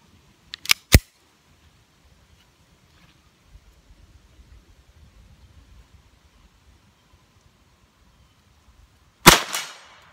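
A CZ P-09 pistol in .22 LR fires at a target 50 yards away, two sharp close reports in quick succession, then near silence before a third shot.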